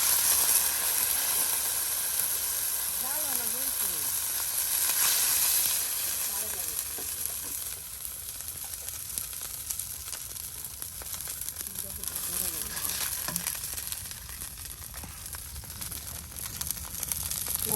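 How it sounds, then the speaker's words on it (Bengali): Cumin and spices for a tempering sizzle in hot oil in a home kitchen, giving a continuous loud frying hiss that eases slightly partway through, with a faint voice underneath at times. "এই যে বাগার জিরা বাগার দেওয়া হচ্ছে, সব একসাথে কিন্তু বাগার দিয়ে দেওয়া হচ্ছে"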